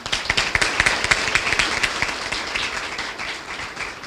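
An audience at a university lecture event claps for the faculty director, a crisp patter of individual claps that is strongest at the start and then thins out, with no speech.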